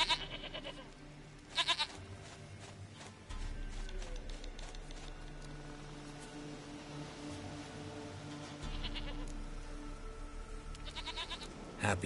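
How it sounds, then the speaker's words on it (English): A goat in the video game The Witcher 3 bleats in a few short, wavering calls, spaced apart over a steady low in-game ambience, fairly faint, with no talk. "Goat of mine, dearest, sweetest goat."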